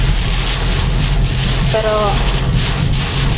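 Gusty wind rumbles against the microphone with a constant rushing wash of rain in Villar City, and a voice briefly speaks over it.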